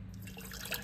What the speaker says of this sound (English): And then we're gonna add our warm water.